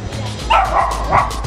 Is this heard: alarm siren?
no